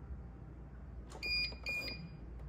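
A few short electronic beeps ring out at a steady high pitch, repeated quickly over a low background hum, from a Gliderol GTS+ sectional garage door motor control.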